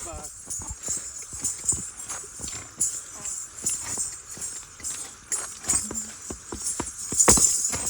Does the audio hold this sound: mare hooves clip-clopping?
yes